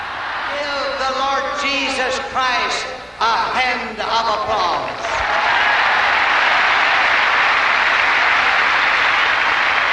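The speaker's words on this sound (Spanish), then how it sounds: "Un aplauso." Applause breaks out from an evangelical religious crowd, a steady broad wash of clapping that starts after a preacher's voice and fills the rest of the stretch, loud and continuous.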